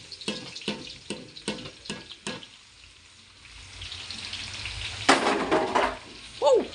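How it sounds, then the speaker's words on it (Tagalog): Lots of chopped garlic hits hot oil in a pan for Batangas-style goat kaldereta, giving a broad, steady sizzle with a few scraping stirs and clinks near the start and a louder crackling burst toward the end. "Lalagay natin ang bawang na pagkadami-dami."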